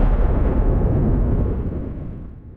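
A huge Big Bang explosion effect thunders in as a deep, loud rumbling blast that starts at full force and slowly fades over a couple of seconds, alone without speech.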